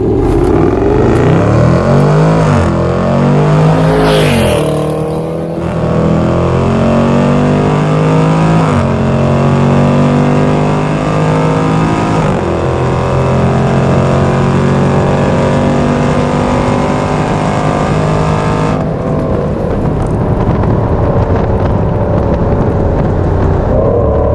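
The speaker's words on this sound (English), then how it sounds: "let's get to the acceleration test." Jaguar F-PACE SVR accelerating hard in sport mode during an acceleration test, loud engine roar climbing through several gear changes with short pauses at each shift, then easing off near the end.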